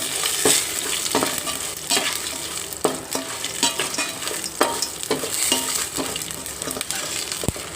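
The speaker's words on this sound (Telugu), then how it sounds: "పోపులన్నీ బాగా వేయించుకోవాలి" Cumin seeds frying in hot oil for a tempering with garlic and dried chillies, a steady close sizzle broken by repeated sharp scrapes and taps of a stirring spoon against the pan.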